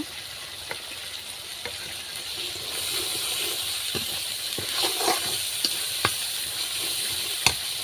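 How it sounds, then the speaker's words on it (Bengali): Masala of garlic, cumin, ginger and garam masala frying in a pan for chicken curry: a steady sizzling hiss with scattered sharp ticks and pops, growing slightly louder midway, with no talk. "রসুন, জিরা, আদা, গরম মশলা, প্রয়োজনীয় সকল মশলা দিয়ে মশলাটাকে ভালোভাবে কষিয়ে নেব।"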